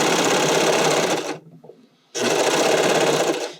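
A serger sews a seam on a spandex sleeve, running in two loud, fast, steady bursts close by with a brief near-silent pause between them.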